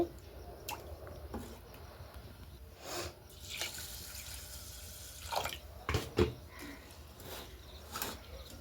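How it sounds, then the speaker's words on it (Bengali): Rice being rinsed by hand in a bowl of water, with soft sloshing, intermittent drips and splashes as the water is changed, quiet and close with no talk. "আবার একবার ধুয়ে নিচ্ছে এরকম বেশ তিন চারবার ধুয়ে নিলে নোংরাটা চলে যাবে"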